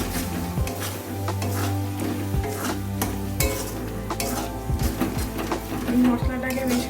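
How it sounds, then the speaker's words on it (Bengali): A paste of chili and turmeric powder hits a hot pan for a restaurant-style chicken bharta, sizzling loudly while a utensil scrapes and stirs in irregular strokes, with a faint voice and a low hum underneath. "লঙ্কার গুঁড়ো আর হলুদ গুঁড়ো দিয়ে একটা পেস্ট বানিয়ে নিয়েছি। দিয়ে দেবো এটা। ভালো করে নেড়ে নেবো।"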